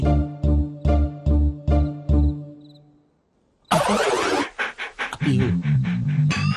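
A dog in a comedy film scene pants in quick, evenly spaced bursts, loud and close, then falls briefly quiet before a sudden loud clattering burst of other noise.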